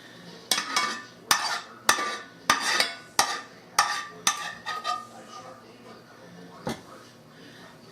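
Browned ground meat and rice are stirred together in a greasy pan for stuffed peppers, with about a dozen sharp utensil scrapes and clinks against the pan in an irregular rhythm, close and fairly loud, with a faint sizzle beneath.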